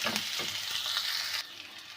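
Onion frying in a pan, a steady close hissing sizzle with a few soft stirring scrapes, fairly quiet and alone, without any voices.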